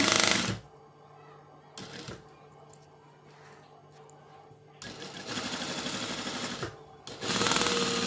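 Sewing machine stitching a round neck top, loud rapid mechanical whirring in several bursts, the longest running about two seconds, separated by quieter pauses.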